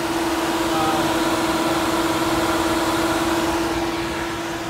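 A Tesla Supercharger's battery cooler fan in Olomouc, running flat out on a 32-degree day, gives a steady, loud broadband whoosh with a constant droning hum underneath and no voices.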